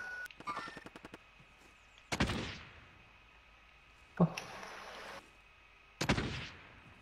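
Gunfire sounds in Call of Duty Warzone: a few sharp, separate shots and short bursts spaced a couple of seconds apart, fairly distant and modest in volume over quiet background.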